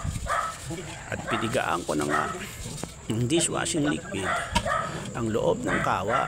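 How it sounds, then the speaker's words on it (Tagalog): A dog barks in the background of a home kitchen while someone talks over it, its yaps and whimpers coming through intermittently at a distance beneath her steady speech. "Naririnig nyo nga po may tumatahol na aso sa aking background."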